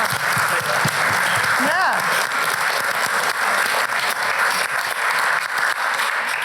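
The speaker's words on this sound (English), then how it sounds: "please just give a round of applause" An audience at a sports-viewing trends talk giving a sustained round of applause, dense, loud and steady clapping filling the room, with a brief voice rising over it early on.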